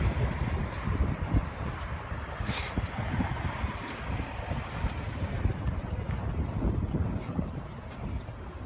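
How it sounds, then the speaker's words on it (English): Strong wind blowing outdoors in Minneapolis, buffeting the microphone in a constant gusty roar with one brief sharp burst. "it's really windy"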